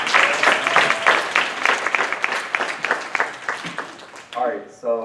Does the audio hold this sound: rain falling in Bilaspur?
no